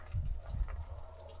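Water poured onto a vegetable garden bed on newly cleared virgin land, a soft splashing gush that swells twice in the first half and then settles into a quieter trickle, close by with no talk.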